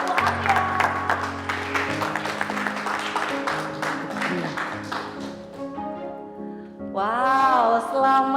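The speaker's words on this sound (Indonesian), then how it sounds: "Tepuk tangan dong sekali lagi." A crowd applauds Pak Devan and Bu Alia as the couple joins the stage at a prize-giving event, steady clapping throughout with music playing beneath and swelling near the end.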